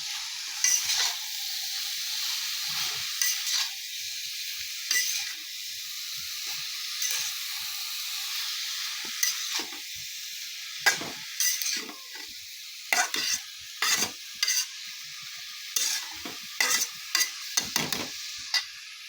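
Gourd peel and chopped potatoes stirred and fried in a pan, a steady close sizzle running throughout with repeated scraping stirs of the spatula scattered over it, no talking.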